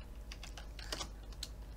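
Rapid typing on a computer keyboard, a steady run of light, close key clicks with a few sharper taps, quiet and unaccompanied by speech.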